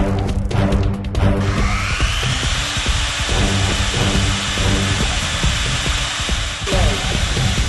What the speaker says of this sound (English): the fully automatic magnetic drilling machine with Morse Taper 2